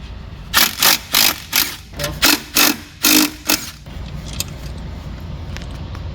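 A pneumatic impact wrench fires in about nine quick bursts, loud and close, then a metal part clinks and rattles as it comes loose from a blown Ford Cobra engine.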